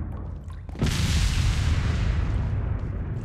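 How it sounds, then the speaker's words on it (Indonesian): A grenade goes off in Resident Evil 4 HD: after a low rumble, a sudden loud boom erupts, followed by a sustained roaring wash of blast noise. "Kita coba tes pakai granat."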